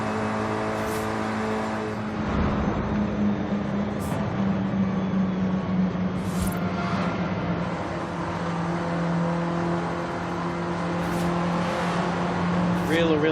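Mini John Cooper Works GP engine with stock engine in a racing video game played on a Logitech G920 wheel, a steady loud engine drone with gear shifts and revving, while someone talks over it.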